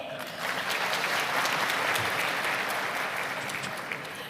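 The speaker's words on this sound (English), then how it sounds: "most of you applauded" A large audience at the opening ceremony of an African food and agriculture conference claps steadily throughout, a dense, even wash of many hands that eases slightly toward the end.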